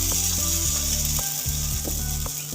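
Pude batter poured into a hot pan for khir pude, giving a loud continuous sizzle with intermittent scraping and clicking as it fries, close up and with nobody speaking.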